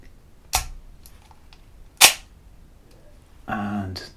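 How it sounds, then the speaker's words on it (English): Shutter of a 1936 Exakta SLR film camera firing: two sharp, crisp mechanical clicks about a second and a half apart, close and fairly quiet, followed by a brief voice. "And there is that lovely shutter sound. It's actually fairly quiet for an SLR."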